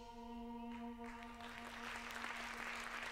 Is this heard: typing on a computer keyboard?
no